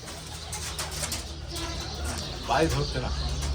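Pigeons at a pigeon sale coo softly in low, rolling murmurs beneath people talking nearby.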